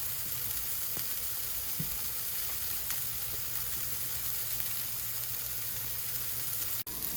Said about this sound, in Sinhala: ඉතින් මම ඒකට කිරි එකතු කරගන්න මේක කුක් කරගන්නවා.